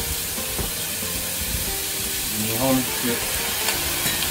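Pork belly and green onions stir-fry in a pan at an izakaya-style kitchen, giving a constant loud hissing sizzle with scraping stirs, while someone speaks briefly over it.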